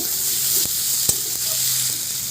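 Onion, tomato and coriander leaves fry in a pan with whole spices and dried chili, making a steady, fairly loud hissing sizzle with occasional clinks of a spoon against the pan, no voices.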